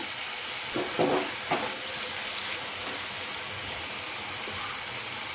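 Ivy gourd and green chilies sizzle and fry in a pan, with a few brief scraping stirs near the start over a steady, even frying hiss.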